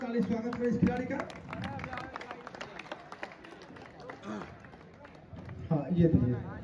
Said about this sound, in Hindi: जोरदार ताली स्वागत है इस खिलाड़ी का।